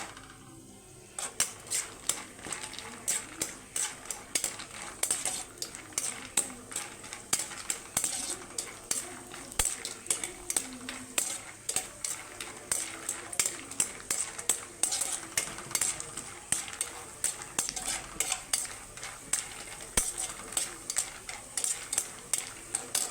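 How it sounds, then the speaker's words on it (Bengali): Shelled peanuts frying in a pan while being stirred, giving a continuous stream of quick scraping and rattling clicks over a low sizzle, fairly close and even throughout. "বাদামটা আমার ভাজা হয়ে গেছে তুলে নেব"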